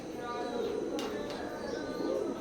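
A semi-adult pair of KTM bloodline Teddy pigeons coos softly and steadily in a low murmur, set against a constant background hiss.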